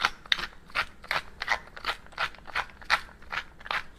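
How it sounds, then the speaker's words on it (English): A pepper grinder is cranked by hand while making a quiche, giving a steady series of about ten soft, close grinding crunches in an even rhythm, with no voices. "it calls for a 1/4 teaspoon pepper. I'm just gonna crank this a little bit and call it good."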